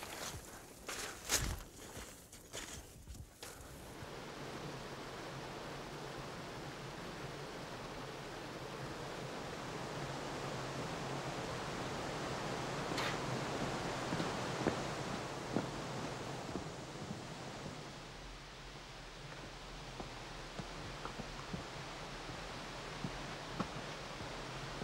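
A splendid waterfall at the foot of a hiking trail on Réunion island roars as a steady, broad rush, loud and continuous throughout, with a few brief knocks near the start.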